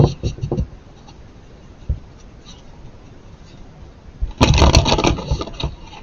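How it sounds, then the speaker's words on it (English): Tarot cards being shuffled by hand, a few soft riffling bursts early on and a louder, denser burst of papery shuffling near the end, close and alone. "2 more shuffles for you guys, 2 more shuffles."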